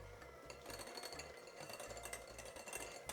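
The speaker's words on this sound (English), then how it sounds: "Start blending this with a mixer just for a moment" An electric mixer blends cake batter with vanilla in short bursts, a low buzzing motor hum that pulses on and off with a gritty whir, close and fairly quiet.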